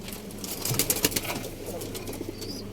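Pigeons in a coop making soft cooing calls, with a brief flurry of wing flaps and scuffling nearby, plus faint chirps and steady background noise.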